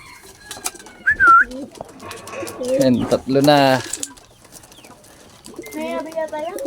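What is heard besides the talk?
racing pigeons arriving at the loft, cooing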